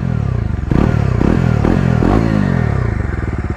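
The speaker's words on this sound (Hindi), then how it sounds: "फिलहाल ये है आइडियल में इसका एग्जॉस्ट का साउंड, थोड़ा रेव करते हैं इसको" A KTM Duke 250 motorcycle with a dual-barrel exhaust idles, then takes a series of sharp throttle blips that rise and fall several times before settling back to a steady, loud, close idle burble.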